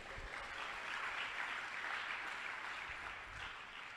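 A church congregation claps hands together in a steady, dense burst of applause that fills the whole moment, close and continuous with no talk over it.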